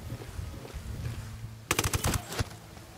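Gunfire in the video game Ghost Recon Wildlands: after a quiet stretch, a sudden sharp burst of several rapid shots rings out close and loud, then stops.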